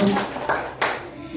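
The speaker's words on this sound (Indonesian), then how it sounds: "tepuk tangan semuanya" Applause from an audience of teachers at a school session, a brief burst of clapping with a few sharper claps, while a voice talks over it.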